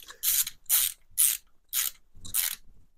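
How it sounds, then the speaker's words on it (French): Ratchet wrench clicking in five quick bursts while snugging the oil drain plug on a Dacia Duster 2 phase 2 dCi during an oil change; close, crisp and alone. "je reviens faire un pré-serrage avec mon cliquet"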